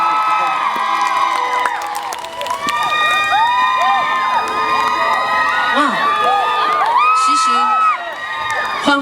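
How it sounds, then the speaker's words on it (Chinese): A large outdoor concert audience at Daan Forest Park in Taipei cheers loudly and continuously, with high whoops and screams layered over a dense crowd roar. "欢呼声很大声哎"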